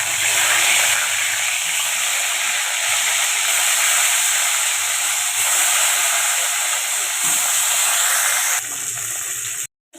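Fish frying in hot mustard oil in a wok, a loud steady hiss of sizzling oil running unbroken, then cutting out abruptly right at the end.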